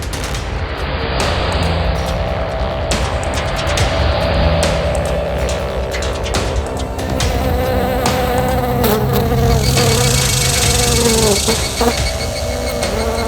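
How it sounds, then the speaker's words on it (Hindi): A housefly buzzes inside a car: a persistent, wavering drone that lasts the whole stretch, layered with dramatic background sound. "तुम्हारी गाड़ी में मक्खी कहाँ से घुस गई?"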